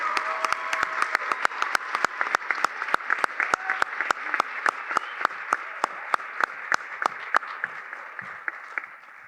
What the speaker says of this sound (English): let's have another round of applause for our new staff for 2023-24